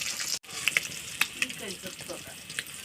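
Jatka fish frying in oil in a pan, a moderate bubbling sizzle close by with scattered sharp pops and spatters, briefly cut at the start.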